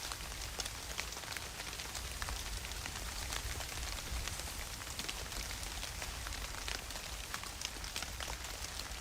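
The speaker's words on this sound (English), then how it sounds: "I must have the worst luck because it's always raining for me." Rain falls in a virtual hunting video game, a soft, steady patter of drops on surfaces with faint irregular ticks, continuous and unbroken, with no talking.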